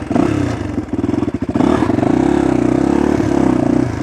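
A 1995 Honda XR250R dirt bike engine runs loud and close, with a steady four-stroke thump, brief revving and clatter near the start, then a sustained even note as the bike is ridden.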